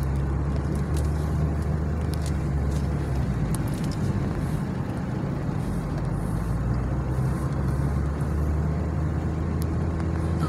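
A car rolls along rural backroads in Pennsylvania with a steady low interior rumble of road and engine noise, constant and unbroken throughout, heard from inside the vehicle.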